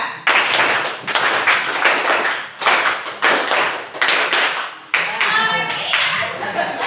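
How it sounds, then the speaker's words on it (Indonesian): A classroom group claps out a rhythmic pattern in bursts of three and four, with loud, sharp hand claps grouped in repeating sets and short gaps between phrases. "tepuk tiga dua kali, tepuk empat satu kali, tepuk tiga dua kali, tepuk empat satu kali"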